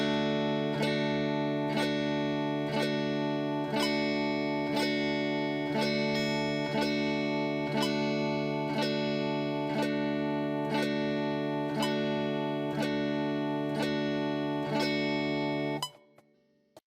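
Guitar down strums landing on each beat, a steady series of about a dozen evenly spaced ringing chords that sustain into one another, loud and close, ending with the strings muted.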